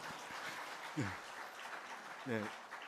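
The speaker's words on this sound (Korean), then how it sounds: "이 박수는 저한테 하는 게 하나님께 하는 거죠" A church congregation applauds softly and steadily at a distance, the patter running beneath a voice that speaks twice over it.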